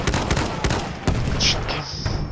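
Farquhar-Hill rifle shots in a combat video game, several sharp cracks in quick succession amid a dense battlefield din of other gunfire.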